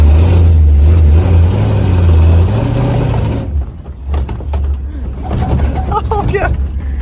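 A 2wd mud buggy engine drones loud and close while riding, a heavy low rumble that eases and picks back up, with a voice talking over it.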